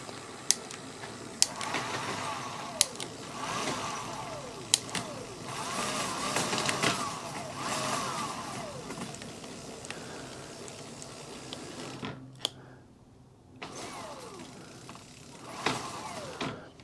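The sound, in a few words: electric bike motor running under throttle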